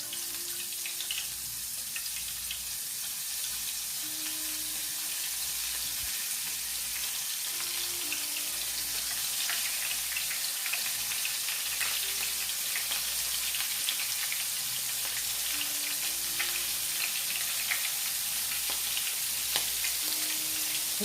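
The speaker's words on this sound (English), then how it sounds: "If you can hear the grease, that's how you know it's hot enough." Steady crackling sizzle of chicken frying in hot grease, continuous and close, with occasional louder pops and no voices.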